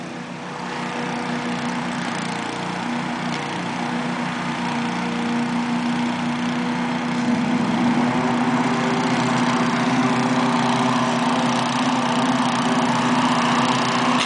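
A large leaf blower running close by at home, a steady droning engine whine with a constant hum that holds throughout and gets slightly louder partway in.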